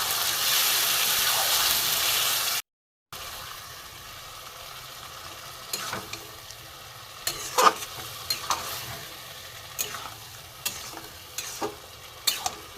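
Chicken coated in a paste of ground spinach, coriander and green chilli is fried in a pan, giving a steady hiss of frying with a brief silent gap and then intermittent sharp scrapes and clinks of stirring against the pan.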